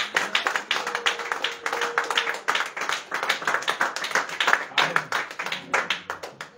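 A church congregation at a prayer marathon bursts into sustained, dense clapping, a steady patter of many hands filling the room for several seconds with no one speaking over it.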